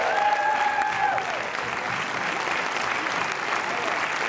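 An audience at a Paris film premiere claps steadily, dense applause filling the hall at an even level, while a voice speaks over the start.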